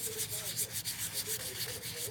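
Wood being hand-sanded with 220 grit sandpaper, a quiet, close, rhythmic back-and-forth rasping of repeated short strokes, no talking.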